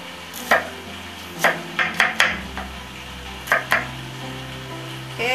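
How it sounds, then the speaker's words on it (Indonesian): A knife slices the remaining onions on a cutting board, giving about eight sharp, close chopping knocks in an irregular rhythm over a steady low kitchen hum, with no talking. "Kita akan iris sisa bawangnya ya."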